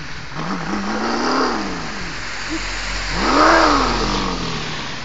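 A reluctant car engine cranks and catches, then revs up twice in rising and falling surges, loud and close, with no talk over it.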